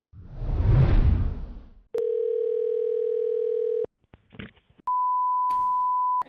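A telephone call starts with a whoosh, then a steady buzzing dial tone, a few brief keypad beeps, and a clear sustained pure-toned ring signal, all loud and close with no talking.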